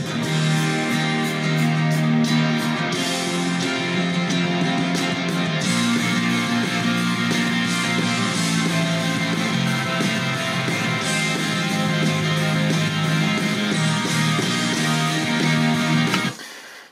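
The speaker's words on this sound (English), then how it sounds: "You get have the bass right in the center, and then the guitars out on each side" Multitracked guitars panned hard left and right over a centered bass play a dense, steady rock passage for about sixteen seconds before stopping abruptly, with no talking.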